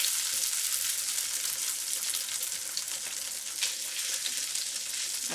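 Zucchini and potato fritters fry in a pan with a bright, steady sizzle and crackle, close and continuous, with occasional sharper pops and no speech.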